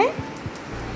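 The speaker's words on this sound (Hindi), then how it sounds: "आप देख रहे हो बारिश आ रही है." Rain falls steadily, a continuous soft hiss of drops on surfaces with a couple of low thuds, moderately loud and unbroken for the short moment.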